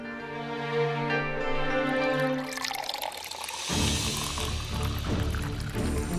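Water pours steadily from a container, entering as a broad splashing rush about halfway through after a stretch of soft background music, and continuing at moderate volume to the end.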